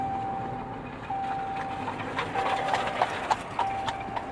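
Horse-drawn buggies travel along a road, hooves clip-clopping in an uneven, growing rhythm over a steady engine drone from a 1966 Plymouth wagon, at moderate distance and without talk.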